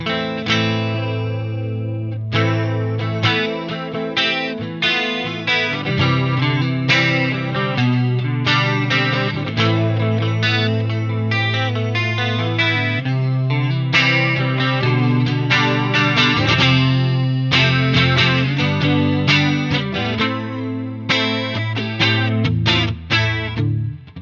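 An electric guitar plays chords and melodic runs through an MXR Analog Chorus pedal's shimmering, warbling effect, loud and up close with no voices.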